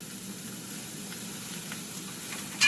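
Cauliflower (gobi) sizzling as it browns in a cast iron pan: a steady, close frying hiss throughout, with a brief stir or clatter near the end.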